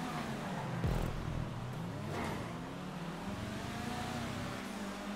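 Rally race car engine in a video game, a continuous droning motor whose pitch rises and falls as it revs and shifts, steady and moderately loud with no talking.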